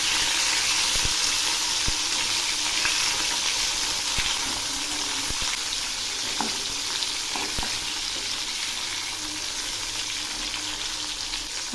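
Rohu fish heads frying in mustard oil in a kadai, a continuous close crackling sizzle with scattered pops and occasional scraping clicks.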